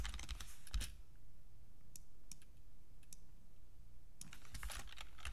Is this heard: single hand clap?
no